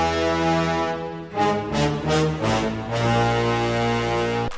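A rich brass horn section from a song sounds long, swelling chords with a few punchy stabs in the middle, loud and resonant.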